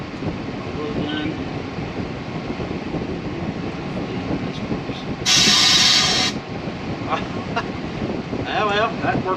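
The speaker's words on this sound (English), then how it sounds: "Blow gun." A compressed-air blow gun gives a loud, close hiss for about a second, used while draining coolant during a fan switch replacement and carburetor vent work. It stands out over steady background noise and rumble.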